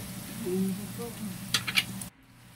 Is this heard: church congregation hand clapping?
no